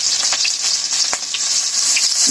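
A splash of water hits a frying paste of onion, garlic, ginger, cumin and coriander in a pan, producing a steady bright sizzle with faint stirring taps, no talking.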